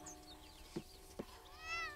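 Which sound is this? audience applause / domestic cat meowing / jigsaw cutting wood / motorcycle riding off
domestic cat meowing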